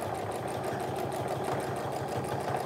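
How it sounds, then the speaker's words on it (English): A sewing machine stitching the corner of a tote bag: a steady, rapid mechanical whirring with an even rhythmic needle pulse, running continuously at close range and moderate loudness with no talking. "I'm gonna go ahead and stitch until I hit that seam allowance and then pull my pin"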